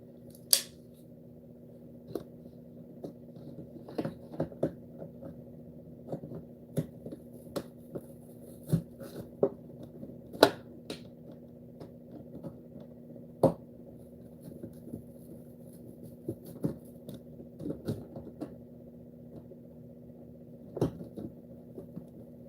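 A big knife cuts a slot into a cardboard PC case, giving a series of sharp, irregular snips and cracks over a steady low electrical hum, close and fairly quiet, with no talking.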